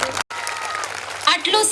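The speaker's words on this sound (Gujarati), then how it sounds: "એકવાર આપણે શ્વરા વાનવી માટે જોરદાર તાળીઓનો અવાજ થઈ જાય." Brief burst of audience applause at a community celebration gathering, with a short gap, and clapping continuing to the end.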